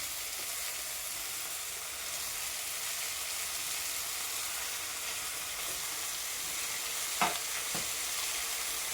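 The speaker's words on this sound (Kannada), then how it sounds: "ಹಾಕಿ ಚೆನ್ನಾಗಿ ಮಿಕ್ಸ್ ಮಾಡಬೇಕು." Drumstick fry with coriander leaves and ground roasted peanut powder sizzles steadily in a pan, a constant close hiss with a couple of soft stirring clinks near the end.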